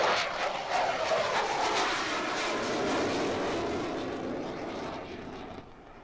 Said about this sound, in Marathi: तेजस हे हलक्या वजनाचं लढाऊ विमान अतिशय प्रभावी झालंय